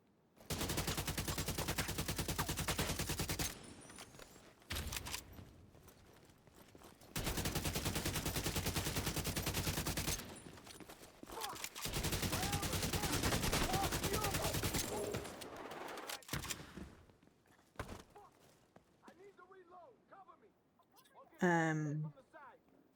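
Sustained bursts of automatic gunfire and fusillades in The Division 2 during an assault on a hostile base, loud and continuous in long stretches with brief gaps, ending with a short voice exclamation.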